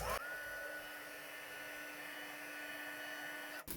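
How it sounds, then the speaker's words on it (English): Heat gun blowing a steady close whooshing hum with a faint whine while melting embossing powder on vellum for cardmaking, starting and stopping abruptly. "the important thing is not to leave the heat gun too long on the vellum"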